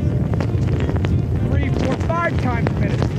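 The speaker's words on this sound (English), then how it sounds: "The highest gust is so brief. It's a quick 2 second punch, right?" Hurricane wind gust roaring continuously into an outdoor microphone, a loud rumbling buffet that stays heavy the whole time, with faint voices and whistling tones mixed into the blast.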